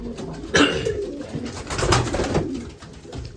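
Male racing pigeons in their section of a loft, cooing repeatedly in soft, rolling calls that overlap one another, close by with a low shuffling background and no talking.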